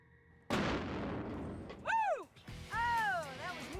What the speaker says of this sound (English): The explosion rocks the truck with a blast equivalent to almost half a stick of dynamite.